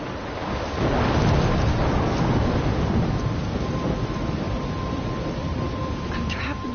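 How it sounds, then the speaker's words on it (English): A game storm scene near a lighthouse, with a steady roar of wind and rain filling the whole stretch and a low rumble swelling after the first second, continuing unbroken under a faint voice. "I'm trapped in a storm?"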